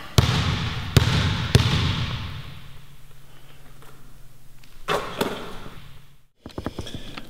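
A basketball is dribbled during a workout on an indoor court, three hard bounces echoing early on. Scattered thumps and squeaks follow, and a burst of bounces comes near the end, with no talking.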